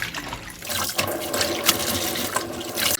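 Water sloshes and splashes close by as young radish greens are swished and lifted in a basin of salt water, uneven bursts of liquid movement.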